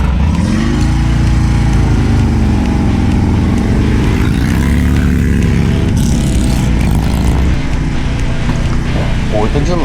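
Harley-Davidson motorcycles rumbling through a Fourth of July parade in mid-Missouri, a loud, dense low engine drone from several bikes close by, with shifting throttle and voices mixed into the roar.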